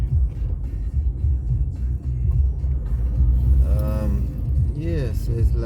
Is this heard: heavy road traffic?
yes